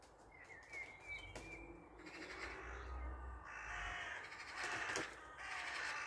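Crows caw repeatedly in a territorial squabble with magpies over a tree, harsh calls overlapping at moderate distance with bursts of rustling and wingbeats, no talking.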